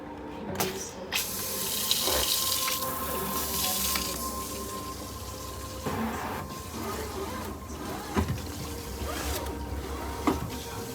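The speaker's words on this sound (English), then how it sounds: "Now, turn the water on, check for leaks." A newly installed kitchen faucet runs water into the sink in a steady hiss and splash, with clinks and brief handling knocks, close by and continuous.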